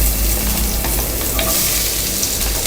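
Onions frying in hot oil with cinnamon, cloves and cardamom, sautéed for mutton biryani, give a steady, continuous sizzle with occasional stirring scrapes throughout.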